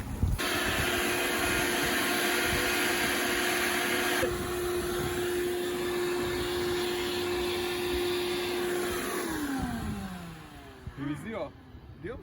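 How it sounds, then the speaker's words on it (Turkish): A vacuum cleaner with a hose runs loud and steady while cleaning a car boot, humming at a constant pitch, then winds down near the end with clunks as it stops. "Baya güzel oldu bu e, hortumun başı. Güzel temizliyoruz."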